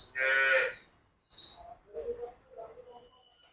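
A Punjab Holstein Friesian dairy cow, a 30-litre-a-day milker, moos once, loud and close, in a long drawn-out call at a cattle shed in Hyderabad. A voice follows after a short pause.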